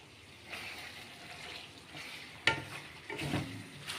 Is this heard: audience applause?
no